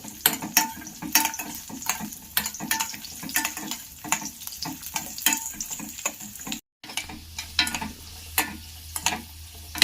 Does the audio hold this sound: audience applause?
no